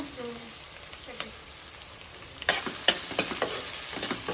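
Chopped green chillies and onions hit hot oil and are stirred, giving a close, bright sizzle that swells suddenly partway through and continues with crackling and scraping.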